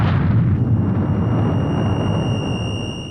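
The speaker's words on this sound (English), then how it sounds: "The music fades out as the atomic bomb drops" A massive atomic bomb blast in an anime depicting the Hiroshima bombing: a loud, sustained roaring rumble that holds steady, with no voices over it, and tapers off slowly toward the end.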